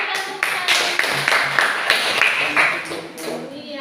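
Classroom of sixth-grade students clapping in applause, a bright burst of many hands in quick rhythmic claps, close and lively, with voices mixed in.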